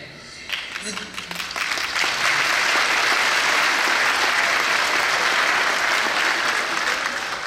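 An audience breaks into applause at an evening ceremony marking an association's 15th anniversary, building within a second into dense, sustained clapping that stays loud and continuous to the end.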